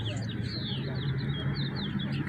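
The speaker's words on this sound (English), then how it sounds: "Listen to those birds singing." Spring birds sing and chirp outdoors in repeated thin high phrases over a loud low rumble of wind and background noise, with a person's voice faintly present.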